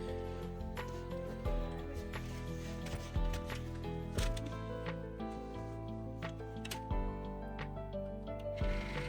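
A laser printer with a motor or gear fault gives off repeated sharp clicks and ticks in an uneven rhythm over a steady mechanical whir, close and fairly quiet.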